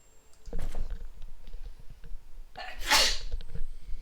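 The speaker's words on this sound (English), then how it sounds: "Sorry, I had to sneeze." A single sharp sneeze bursts out close to the microphone after a few quiet keyboard clicks and small sounds, loud and brief, with no talking.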